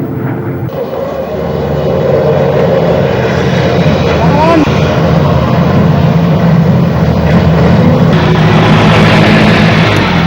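Engines of an AN-12 transport aircraft drone loud and steady from inside the cabin in flight over Daulat Beg Oldie, a constant heavy rumble filling the whole stretch, with brief voices over it.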